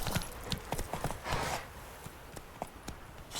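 Horse hooves clip-clopping at a walk in the video game The Witcher 3: Wild Hunt, a quiet irregular series of hoof hits with faint background ambience.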